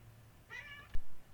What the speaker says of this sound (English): Cats decide they need to interrupt.